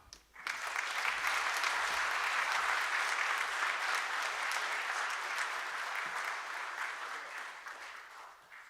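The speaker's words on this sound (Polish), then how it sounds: "szanownych państwa proszę o gorące brawa" Warm audience applause at an MBA cybersecurity diploma ceremony, rising quickly to a full, sustained wash of many hands clapping, then slowly thinning toward the end.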